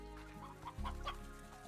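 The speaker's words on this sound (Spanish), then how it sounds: "Hay unas gallinas por aquí sueltas, las pillo." Chickens in the video game Slime Rancher cluck in a short burst of soft, repeated calls, close by, with a steady low background hum.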